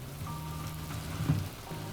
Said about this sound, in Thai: ฝนตกอีกละ